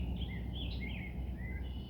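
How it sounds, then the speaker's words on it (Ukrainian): Faint bird chirps and warbling calls from birds at a pond rise above a low, rumbling outdoor background, close enough to pick out individual notes. "Пташки на ставочку співають."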